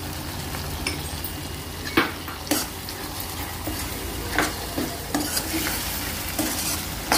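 Chili powder and black pepper cooking in a pan for a spicy Andhra egg pulusu, with a steady sizzle broken by several distinct scraping stirs of a spoon against the pan, close and moderately loud.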